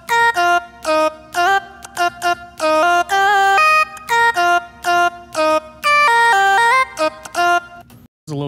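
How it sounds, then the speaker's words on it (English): A distorted synth lead with OTT compression and the low end cut plays a bright, choppy melody of short staccato notes and held tones, loud and upfront, ending in a brief gap and one last note. "Then we're gonna put some distortion on it. Maybe soft clip."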